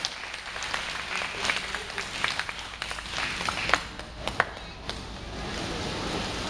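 Applause for a military band made up of army and air force musicians, scattered clapping from a modest crowd that rises and thins with irregular sharp claps.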